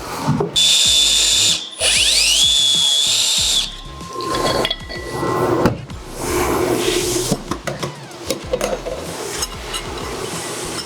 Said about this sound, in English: you will be ready to drill